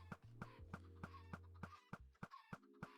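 Rapid, regular clucks from Minecraft Bedrock Edition chickens with a synthetic game-like quality, a dozen or so short bursts over a low steady hum.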